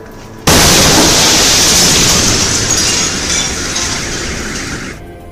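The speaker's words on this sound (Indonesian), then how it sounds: "bola api luar biasa terang tiba-tiba melesat turun dari langit dan kemudian meledak" A loud, sudden blast from the Chelyabinsk meteor fireball bursts in and holds as a sustained roaring rumble that slowly fades over several seconds before cutting off.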